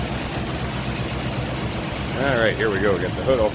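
A Ford 289 V8 in a 1966 Mustang Fastback idles with a steady, smooth low rumble, and someone talks over it near the end.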